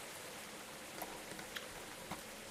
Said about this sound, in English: Let's add some rain here.